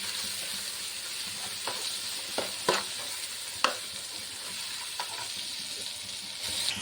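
Fish pieces cook in a chili masala in a pan with a steady low sizzle, broken by several sharp clinks and scrapes of stirring.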